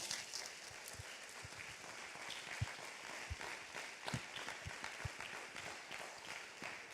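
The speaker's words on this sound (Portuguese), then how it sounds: "Por favor, aplaudam a Jesus." A church congregation applauds steadily, a faint, distant wash of many hands clapping with scattered louder claps, continuous for several seconds with no talk over it.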